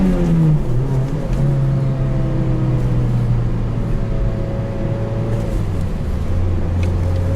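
A 2007 Mazda Miata pulls hard under acceleration, its engine note climbing steadily through the gears with a brief dip at each shift, loud and close from inside the cabin with no talking.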